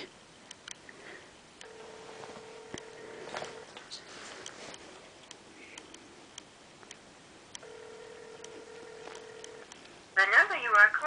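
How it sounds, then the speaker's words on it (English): Telephone ringback tone playing over a speakerphone, two long ringing bursts a few seconds apart, with faint background noise and a brief louder rustle at the end. "It's ringing."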